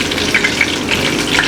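Fish coated with cornflour and rice flour fries in hot oil, a loud, close, steady crackling sizzle with small popping bursts throughout.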